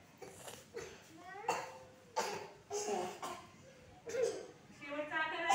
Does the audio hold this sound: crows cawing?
no